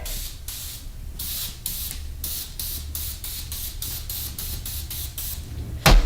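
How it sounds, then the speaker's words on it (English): Rapid short bursts of cooking spray onto a baking tray, a dozen or so quick hissing pulses in a steady rhythm, close and clear. "I'm just putting a little spray on just to hold the parchment paper down"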